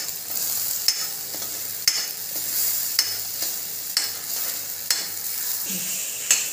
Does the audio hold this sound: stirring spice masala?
yes